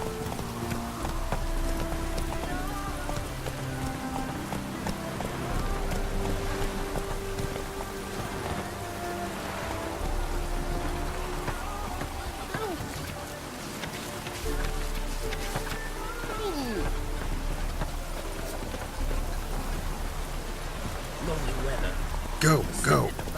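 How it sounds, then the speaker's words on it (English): Steady rainfall in The Witcher 3: Wild Hunt, a continuous hiss of drops pattering on surfaces under game music, with voices speaking over it and a few louder effects near the end. "No use doing any work in this rain."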